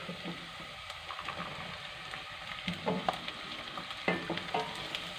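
Steady crackling sizzle of chopped fresh green beans stir-frying in a pan, with irregular pops and stirring scrapes, quiet and close.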